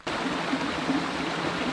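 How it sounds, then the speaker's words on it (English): A trailside forest stream on a backpacking route flows in a steady, close, full rush of water, constant and alone, without any speech. "we stopped here to refill our water bottles at this nice stream"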